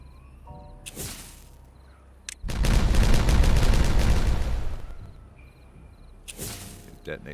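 Dynamite detonations in the building game Timberborn: sharp blasts with a long, dense rumbling rattle of explosions in the middle, framed by quieter game ambience and brief whooshing bursts.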